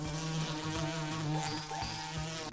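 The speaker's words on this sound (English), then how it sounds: "Have you heard the buzzing of the bees? How do you think the buzzing noise is produced?" Insect buzzing, likely bees: a steady, loud, droning hum with layered harmonic tones that stays close and continuous throughout, with no talking.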